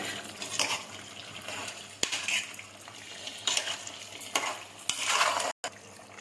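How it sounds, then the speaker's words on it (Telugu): Ginger garlic paste and finely chopped tomato fry in a pan with a steady sizzle, broken by several sharp scrapes and clinks of a spoon stirring against the metal, and a brief dropout near the end. "ఇందులో ఇప్పుడు అల్లం వెల్లుల్లి పేస్ట్, టమాటా, సన్నగా తరిగి పెట్టుకున్నటువంటి టమాటా వేసుకోవాలండి"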